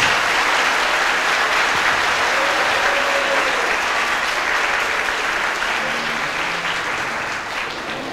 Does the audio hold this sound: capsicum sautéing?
no